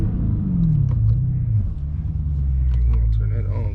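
Deep, steady V8 rumble from a Dodge Challenger Scat Pack with the 392 engine, heard from inside the car while riding, with people talking over it throughout.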